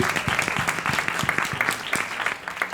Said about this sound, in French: Trop bien, on l'applaudit, merci.